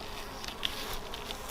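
Honey bees buzz steadily around an open hive during a colony inspection by a Derbyshire queen-rearing group, a soft continuous insect drone with no talking.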